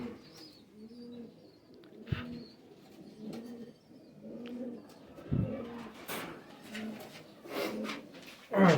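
Soft, repeated cooing of pigeons in a gentle rhythmic pattern, with occasional wing flutters, light clatter and faint chirps nearby.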